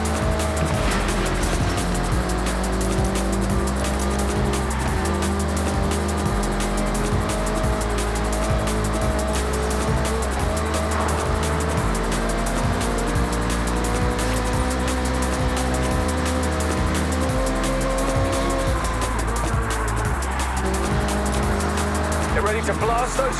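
Car engines race in Forza Horizon 6, a loud continuous roar with rising and falling revs and tire noise throughout, unbroken from start to finish.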